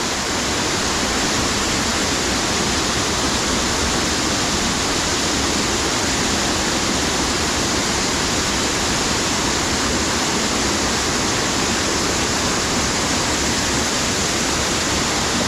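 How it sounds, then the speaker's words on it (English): Harmby waterfall roars in a loud, constant, broadband rush of falling water heard up close, unbroken from start to finish. "go right next to the waterfall"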